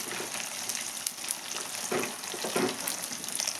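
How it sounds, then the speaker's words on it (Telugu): Spicy fish fry sizzles in a pan with a soft, steady crackling hiss, fairly quiet and close, no voices. "చేపలు అయితే బాగా ఫ్రై అయినాయండి, తీసేస్తున్నాను."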